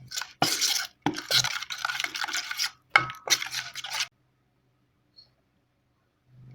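Masala paste being mixed with a little water for a yam and raw banana tava roast: several bursts of wet scraping and stirring close by, then quiet with a faint knock at the very end.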